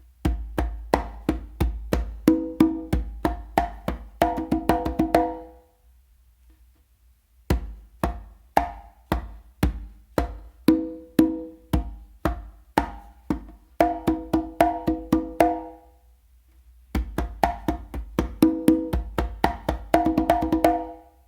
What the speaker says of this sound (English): But to play it up to this point, using the tumbao, it's going to sound like this.